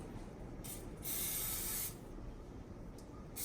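Non-stick butter spray hissing onto bowls while preparing strawberry shortcake, two short bursts, the second longer and louder, close up over a quiet kitchen background.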